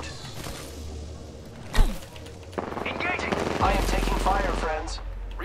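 Gunfire in a shooting video game, with one loud close shot and rapid automatic bursts later on. A steady low rumble runs underneath, along with busy game effects.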